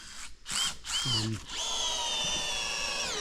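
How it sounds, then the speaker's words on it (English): A power drill drives screws into boards on a creek bridge under repair outdoors, giving short whirring bursts, then a long sustained whine, close and loud. "finishing up the center screws, and then we'll be complete"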